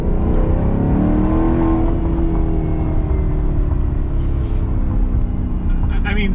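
A V8 car engine in the Gran Turismo Sport racing game rumbles loud and steady, its revs rising and easing with a continuous growl while a person talks over it.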